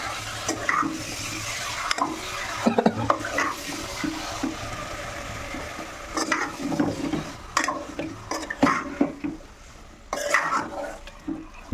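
Chicken curry with gravy being stirred in a pan, with repeated scraping and clattering strokes of a spoon and soft bubbling, close and fairly loud, arriving in uneven bursts with no talking.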